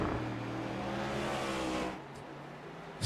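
Stock car engines roar together at Monza in the iRacing sim, a dense, steady drone of revving motors that drops to a quieter hum partway through.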